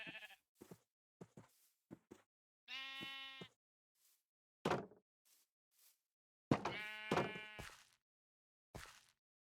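Sheep in the Minecraft video game bleat several times, short clear blocky cries spaced apart between quiet footsteps and small taps, with no talking.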